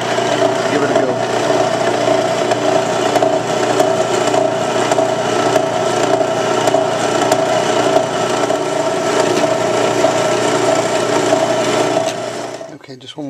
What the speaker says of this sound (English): I'm going to drill a half inch into the mainspring housing